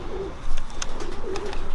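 Racing pigeons coo inside a loft, with low, soft rolling calls repeating in two clear bouts against steady background noise; no one talks.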